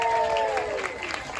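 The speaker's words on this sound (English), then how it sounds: "big round of applause for Omar" Audience applause for Omar, the official judge at an all-Alaskan racing pig show, a steady wash of clapping heard over a brief tonal whistle or music line at the start.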